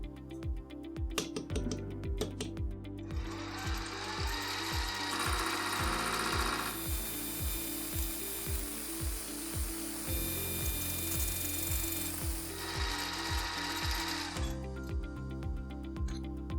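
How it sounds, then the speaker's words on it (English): A milling machine cleans up the surface of a metal part to final size, running with a steady mechanical drone, a rapid repeating ticking rhythm, and bursts of harsh cutting noise that start and stop. "Then I bring the part back in the milling machine to clean up the surface and bring it to its final size."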